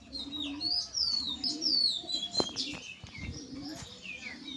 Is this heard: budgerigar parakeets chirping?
yes